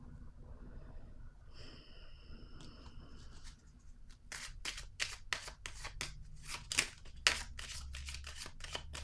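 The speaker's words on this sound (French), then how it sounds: "je vais piger une autre carte ici" Tarot cards being shuffled and drawn, with a quiet, hushed start giving way to a run of quick, crisp riffling and flicking bursts close by, no talking.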